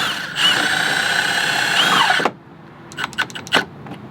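A power drill whines loudly as it drives self-tapping screws through a carbon-fiber front lip into an aluminum piece on a BMW M4, running steadily for about two seconds before stopping, followed by a few sharp clicks and taps.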